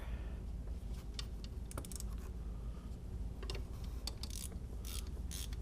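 A ratchet loosening 10mm bolts on the alternator of a 2002–2006 MINI Cooper S, giving clicky mechanical bursts over a steady low hum, close up with no talk.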